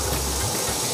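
Tomatoes hit hot oil in a biryani pot with a loud, steady, close sizzle and hiss that fills the brief moment without a break.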